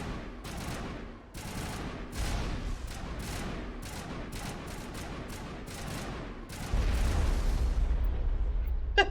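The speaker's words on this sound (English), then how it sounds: "Well, that's an explosion." Rapid bursts of gunfire and explosions from the Mass Effect game crackle in quick succession, then a heavier, sustained low rumble takes over near the end, with no voices.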